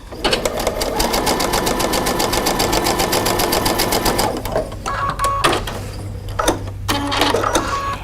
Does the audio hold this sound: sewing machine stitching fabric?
yes